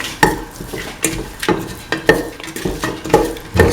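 A spoon or spatula stirs salt into mint tomato rice in a pan, making a steady series of close scraping clinks against the metal, roughly two or three strokes per second.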